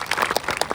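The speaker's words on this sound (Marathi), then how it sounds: "टाळी बजावतो साहेब" Brief burst of crowd applause at a live rally gathering, a quick patter of many hands clapping close by for under a second.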